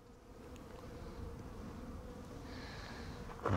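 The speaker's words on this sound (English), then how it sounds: "there you can see a little tiny patch of bees" Honey bees in a weak hive make a steady low buzzing hum at close range for a few seconds, with no talk over it.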